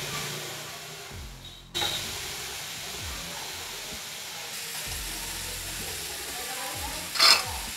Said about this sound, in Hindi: गैस को धीमा कर दिया है, धीमी आंच पे सूजी को भूनेंगे।